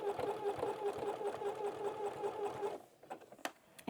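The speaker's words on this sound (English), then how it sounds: "I'm just going to go slow, and I'm just going to follow the curves, keeping my needle in the center, and just stitch it onto my sweatshirt" Sewing machine running steadily at slow speed, stitching a zigzag appliqué onto a sweatshirt. A close, even mechanical whir stops near the end, followed by a few faint clicks and handling noises.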